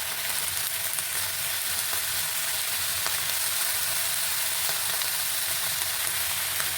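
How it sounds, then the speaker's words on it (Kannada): Andhra-style ingredients fry in oil, giving a steady, even sizzle that holds at a moderate level throughout with no voices. "ಇದೆಲ್ಲ ಸ್ವಲ್ಪ ಎಣ್ಣೆಯಲ್ಲಿ ಫ್ರೈ ಆಗಬೇಕು ನೀಟಾಗಿ."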